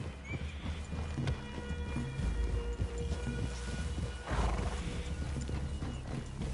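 Horses in a wooded clearing on a cowboy outing: hooves clip-clop steadily nearby with creaking tack, and a whinny breaks in midway, with no voices over them.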